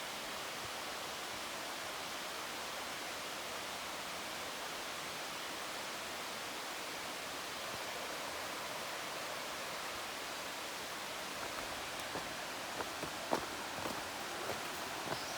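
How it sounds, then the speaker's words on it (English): A waterfall rushes over rocks beside the Priest section of the Appalachian Trail, a broad, continuous hiss of falling water with a few faint footsteps or trail noises near the end. "Water rushing over rocks."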